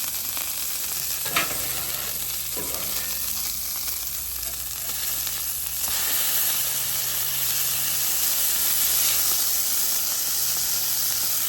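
Brisket burgers sizzling on a Blackstone griddle, with a loud continuous close hiss and crackle, a few scrapes of a spatula on the flat-top, and the frying growing slightly louder partway through.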